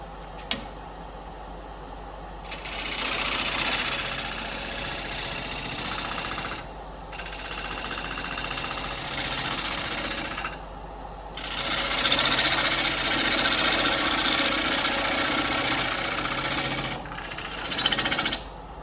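Chisel riding the bevel on a cherry wood bowl spinning on a lathe produces repeated bursts of close, hissing scraping cuts, each lasting a few seconds, separated by brief pauses over a low motor hum.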